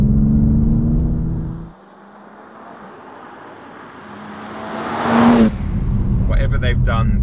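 BMW M4 CSL with its ZF 8-speed gearbox on the road: a steady drivetrain drone with a faint whine, fading into a quieter stretch before the engine rises again, swells to a brief peak and carries on loudly.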